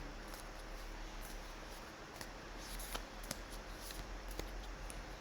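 A Light Seer's tarot card deck being shuffled close up, giving a quiet run of soft riffling and scattered light clicks.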